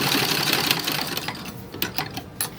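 A sewing machine stitching seams on a 1940s dress, a fast rattling whir of needle strokes up close, steady at first and then breaking into short separate bursts.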